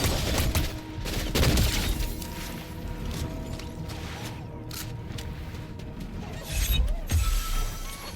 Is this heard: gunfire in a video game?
yes